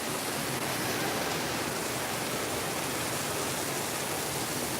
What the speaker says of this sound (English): Is it too noisy by this water?